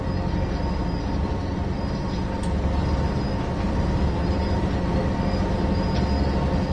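A train rumbles steadily in the video game Train Sim 2, a loud, continuous engine and rail roar that holds unchanged from start to end with no talking.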